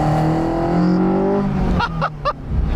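Honda F22C engine swapped into a 1977 Toyota Celica revs loud and close, its pitch climbing steadily, with people briefly talking near the end.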